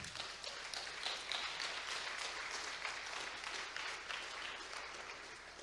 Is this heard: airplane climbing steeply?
no